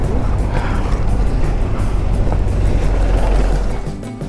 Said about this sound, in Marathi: जम्प स्टार्ट करून आम्ही बाईक तर सुरू केली आहे।